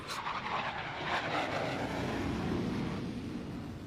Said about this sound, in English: the skies over Lemoore echo with the deafening roar of FA-18 jet fighters